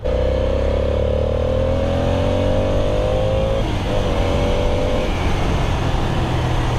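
A loud twin-cylinder Ducati 800 Monster S2R motorcycle engine revs up steadily, its pitch rising in smooth climbs, with a constant throaty drone close by.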